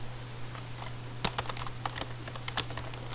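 Someone types on a computer keyboard: irregular, close key clicks in small bursts over a constant low electrical hum.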